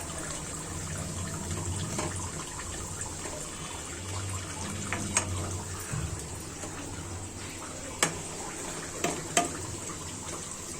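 Pitha frying in a pan while being stirred, a steady close bubbling sizzle with a few sharp scrapes and clicks from the utensil, no voices.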